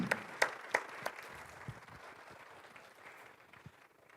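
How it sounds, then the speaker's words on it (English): Spectators at a FIRST Tech Challenge robotics qualifier clap for the judges, a few sharp distinct claps at first, then thinning, fading applause that trails away quietly. "Let's give them a big round of applause for their dedication."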